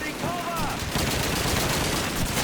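Bursts of rapid gunfire in a Call of Duty match during an enemy tank attack on a house, sharp cracks in quick succession over a busy, noisy battle background.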